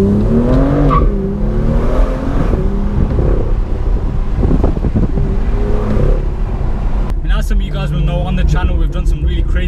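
A 2018 BMW M2 engine heard from inside while driving, rising and falling revs with a loud rumbling drone and gear changes, with someone talking over it.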